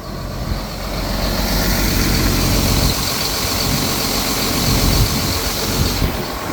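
Air brake on a vehicle releasing, a sustained loud hiss of escaping air with broad noisy texture that holds steady for several seconds over a low rumbling background, with no voices.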